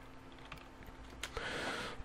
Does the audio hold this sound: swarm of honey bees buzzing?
no